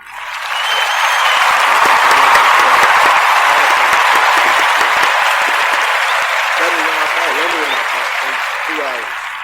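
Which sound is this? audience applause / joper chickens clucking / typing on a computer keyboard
audience applause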